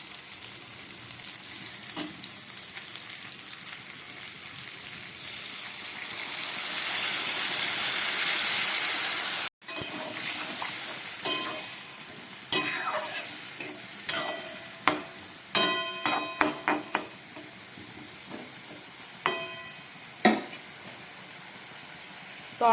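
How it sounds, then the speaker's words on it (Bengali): Bengali shukto vegetable curry bubbling in a pan after a little water goes in: a steady sizzling hiss that swells, then breaks into scattered pops and spits, close and alone. "তরকারিটা ফুটুক"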